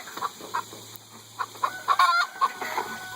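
Chickens cluck in short, scattered bursts, some louder and closer than others, with a quiet steady hum underneath and no talking.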